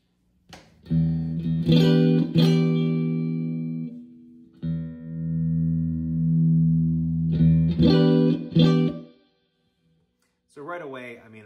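Electric guitar played through a tape echo delay pedal, sustained distorted chords ringing out loud in several bursts with short gaps, each tail carrying a smooth echo, followed by a brief voice at the end.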